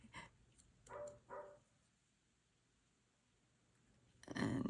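A neighbor's dog barks a few short, faint, distant times, then a louder burst comes at the very end against a quiet indoor background.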